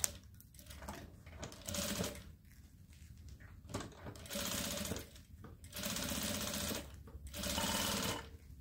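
Sewing machine stitching the finishing seams on a fabric toiletry bag, running in several rapid bursts of a few seconds each with short pauses between, fairly quiet and steady.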